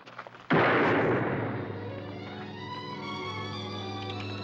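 A single sharp gunshot in a 1967 western TV film booms out close and loud, then rings and decays into a long, fading reverberant tail.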